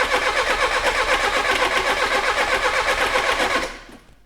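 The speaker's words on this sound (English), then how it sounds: "See if it starts. Quality starter motor, that." A Peugeot 305 engine cranks loudly on a rebuilt Lucas starter motor after decades left in a hedge, a fast rhythmic churning that runs without catching for several seconds and then cuts off.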